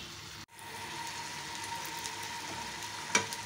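Potatoes and peas fry in masala with oil risen to the surface, a soft continuous sizzle close by, broken by a brief dropout early and a small clink near the end, with no talking.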